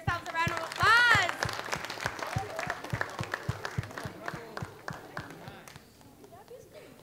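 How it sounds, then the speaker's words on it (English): Workshop participants at a creative arts rhythm session applaud, a sustained round of clapping with steady sharp claps close by, starting strong and gradually thinning out, while a voice speaks briefly near the start. "Give yourselves a round of applause."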